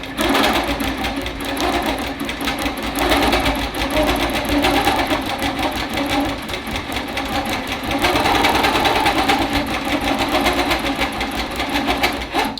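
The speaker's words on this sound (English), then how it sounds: "So I'll stitch up to here and then I'll come back and cut this." A long arm sewing machine stitches a June Tailor pocket shopper tote, its needle chattering in a fast, steady mechanical rhythm with a continuous motor hum, close and loud, with a brief change in pace partway through.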